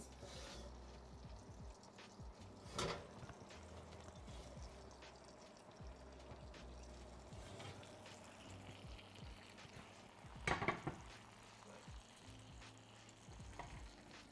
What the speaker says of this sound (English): So many good sizzling sounds.